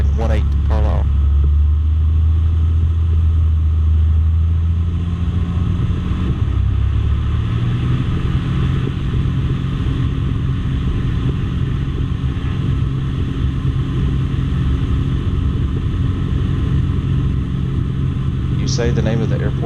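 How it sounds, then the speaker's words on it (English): Steady, loud engine drone of a Rallye light airplane taking off from Carlisle, a constant low rumble that fills the whole stretch, with brief spoken radio-style talk near the start. "you can't hear that over the airplane noise"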